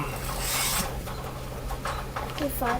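A knife blade is sharpened on a 320 grit stone in a garage, with soft, quiet rasping strokes over a faint steady hum and brief background voices.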